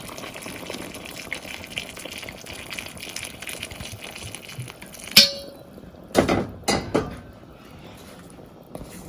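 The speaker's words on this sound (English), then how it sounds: "I'm adding boiled water." Boiled water is poured into a cooking pot in a few short splashing gushes after a stretch of quiet room background.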